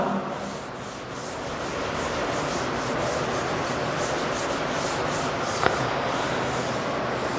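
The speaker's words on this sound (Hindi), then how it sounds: "तो मैं इसका लेफ्ट साइड वाला थोड़ा सा मैं रब करूंगा।" Continuous rubbing of a board duster across the left side of a classroom board during a Class 10 maths lesson, a steady scraping hiss lasting throughout, close and even, with one brief sharper scrape near the end.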